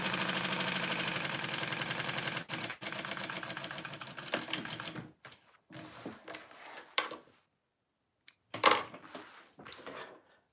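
A sewing machine runs a long basting stitch on a tote bag with foam, a fast steady mechanical whirring at first, then short stop-start bursts of stitching separated by pauses and light clicks.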